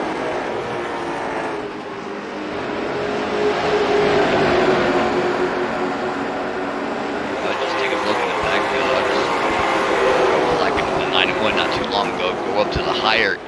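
Late model race cars roar around the IRP oval in a Lucas Oil race, a continuous engine drone with passing cars swelling nearby, heard under steady commentary.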